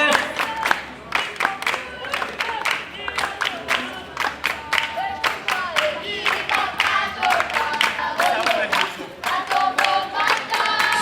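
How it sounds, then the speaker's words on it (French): An audience at a Christmas book fair in Kinshasa claps for young students, with rhythmic unison clapping that is loud and close. Crowd voices and cheering mix in throughout. "Applaudissez pour eux, c'est bon, continuez."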